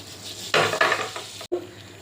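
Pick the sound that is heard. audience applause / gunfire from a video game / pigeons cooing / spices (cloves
spices (cloves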